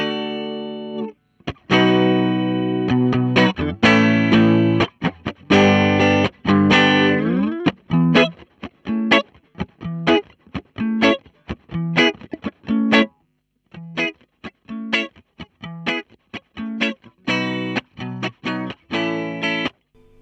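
Choppy clean electric guitar, played straight into a Fender Blues amp with no pedals, strums in a tight, syncopated rhythm, short muted stabs alternating with ringing chords, played loud and alone without vocals.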